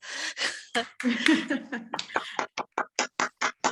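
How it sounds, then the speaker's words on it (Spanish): Online seminar participants unmute and applaud, scattered claps and snaps ringing out over a voice speaking, then settling into a string of about ten distinct, evenly spaced claps at the end. "Les pido que activemos los micrófonos y le brindemos un fuerte aplauso a Paola"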